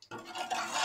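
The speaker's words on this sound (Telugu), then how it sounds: "అవన్నీ కలిసేటట్టు కలుపుకుందాం." A spoon stirs chilli powder and salt into a fish curry in a pot, making a brief, soft scraping and swishing sound lasting under a second.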